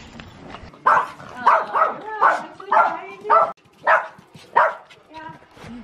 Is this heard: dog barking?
yes